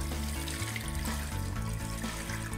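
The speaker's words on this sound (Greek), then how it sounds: "Τώρα θα συμπληρώσουμε με νερό" Water runs steadily into a cooking pot holding fish for a vegetable fish velouté soup, a continuous close splashing pour with no talk.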